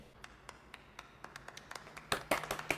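Scattered hand claps, a single person applauding slowly at first, then a quicker, louder burst of claps near the end, close and alone.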